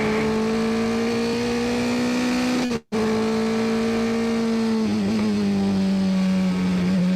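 A race car engine coasts into a corner, a loud steady droning tone that briefly cuts out and then resumes before dropping in pitch as the car settles, with no voices.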